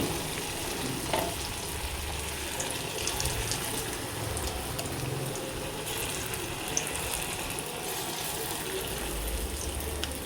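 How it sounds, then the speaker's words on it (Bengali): Mixed lentil fritters fry in hot oil with a steady, close sizzle and bubbling, broken by occasional scrapes and taps as the fritters are turned. "এগুলো উল্টো পাল্টা ভাজি"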